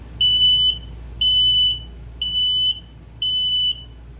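Safety detector in a 2023 East to West Alta 2600KRB travel trailer sounding its test alarm: four evenly spaced, piercing high beeps, each about half a second long, close and loud.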